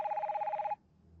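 A telephone rings in a steady, rapid repeating burst for under a second, then cuts off abruptly, leaving only a quiet low room hum.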